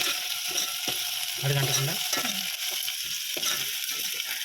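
Ginger paste being stirred and fried in a pan, a steady bright sizzle with scraping and ratcheting stirring strokes, close, with no one talking.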